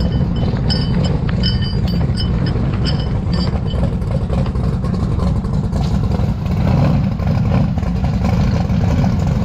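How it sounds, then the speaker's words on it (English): The Murder Nova drag car idles and revs loudly with a rough, throbbing engine note, while light metallic jingling clinks flicker intermittently over it through the first few seconds. "What's that jingling noise?"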